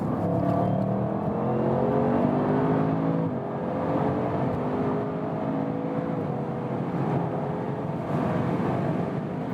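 An Audi RS7 Sportback with the optional sports exhaust accelerates hard, its engine roaring loudly with rising tones through gear changes, heard from inside the car without talk.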